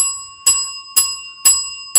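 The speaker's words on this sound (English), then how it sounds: "That sounds like the Brotherhood bell on repeat" An alarm bell rings repeatedly with five loud, sharp metallic strikes evenly spaced about half a second apart, each leaving a sustained ringing tone, with no voices.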